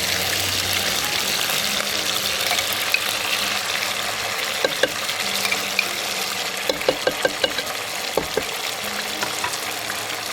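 Curry paste slides from a jar onto raw chicken in a home kitchen, giving soft wet plops and a few sharp scraping clicks against a steady sizzling background, with no talking.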